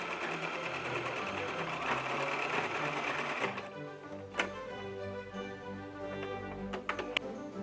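A sewing machine stitches the fingers of a homemade glove, running in a steady rapid whir for the first few seconds, then stopping and leaving sparse ticks and clicks of handling close by.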